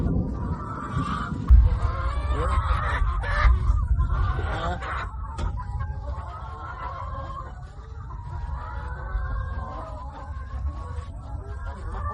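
Several chickens cluck and squawk together, close and fairly loud, with a continuous low rumble underneath.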